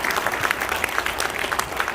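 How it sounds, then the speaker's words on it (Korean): A hall full of party members at a political gathering breaks into steady, dense applause, many hands clapping together loudly and evenly throughout. "큰 박수로"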